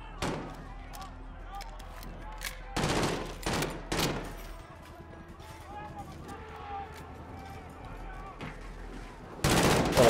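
FAMAS rifle gunfire in Call of Duty Modern Warfare during the Embassy mission: several loud, close bursts of rapid shots separated by quieter gaps, with a final burst at the end and voices talking in between.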